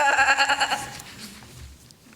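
A sheep gives a short, wavering bleat, close and clear, then fades into quiet rustling background.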